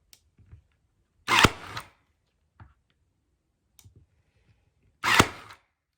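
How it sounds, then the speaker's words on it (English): Two sharp, loud staple gun shots into a wooden round, several seconds apart, each a punchy snap into wood, with faint handling clicks between. "And then I attach it with a staple gun."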